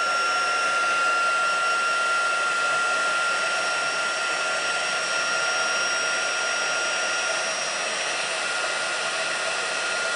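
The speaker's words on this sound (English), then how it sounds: "it's just a case of taking your heat tool and heat embossing it" A heat tool blows steadily for the whole stretch as it melts embossing powder on a card, a loud, close, even whir like a hair dryer with a faint high whine and no talk.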